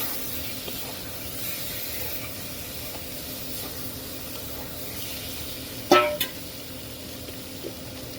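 Gutum fish frying in spiced masala in a pan gives a continuous hissing sizzle, with a short loud burst of spitting partway through and a small pop near the end.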